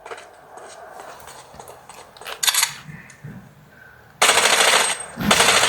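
Rapid gunfire in a Squid Game video game, loud bursts of automatic shots, one brief cluster midway and a sustained volley near the end, close and harsh.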